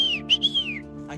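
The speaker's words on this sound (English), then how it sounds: "Oh yeah, let's whistle." A person whistles on a jungle trail: a short, clear run of a few sliding, bird-like notes, near and loud over a low steady hum, with no talk.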